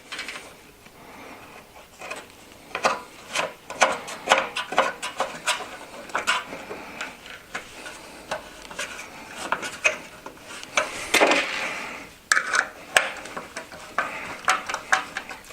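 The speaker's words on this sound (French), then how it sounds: "On serre avec le tournevis pour avoir une meilleure fixation." A screwdriver tightens the SSD mount inside a PC case on an EVGA 4-Way SLI platform, with close, irregular scraping and rubbing clicks of metal and plastic coming in short bursts over about fifteen seconds.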